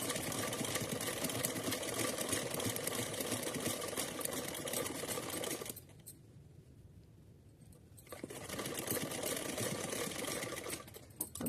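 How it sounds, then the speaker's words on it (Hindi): Sewing machine stitching a small summer dress for a Laddu Gopal deity doll: a fast, steady mechanical whir of needle strokes, pausing for about two seconds midway before resuming, heard close with no talk. "अभी यहाँ हम पक्का करते हुए एक सिलाई और लगा लेते हैं।"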